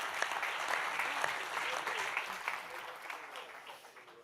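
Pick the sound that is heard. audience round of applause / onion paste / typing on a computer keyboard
audience round of applause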